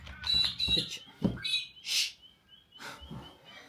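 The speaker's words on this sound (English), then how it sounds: "There's a few birds out there." Several short bird chirps and calls ring out one after another, fairly close, with quiet pauses between them outdoors.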